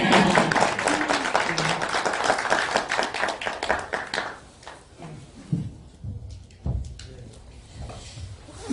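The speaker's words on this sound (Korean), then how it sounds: "박수 한번 더" A room of attendees at a constitutional-amendment debate gathering claps loudly for about four seconds, then the applause thins to a few scattered claps and handling noises, with brief voices murmuring.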